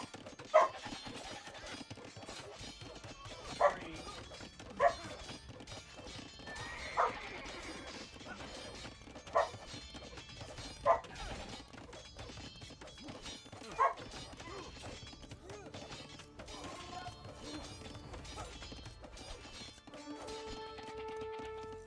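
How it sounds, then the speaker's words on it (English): A dog barks in single sharp woofs about every two to three seconds, several in all, heard faintly behind steady game music and sound effects. "why do I hear a woof woof woof?"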